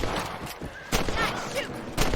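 Rifle shots from the Western video game Red Dead Redemption, a few sharp cracks spread across two seconds amid background talk and game ambience.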